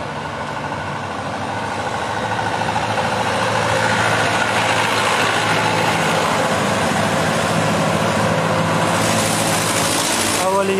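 A truck loaded with raw milk for a humanitarian aid convoy idles with a loud, steady engine rumble, voices and crowd noise mixed in around it.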